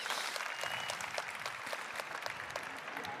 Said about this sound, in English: Yeah, you can clap, that's okay.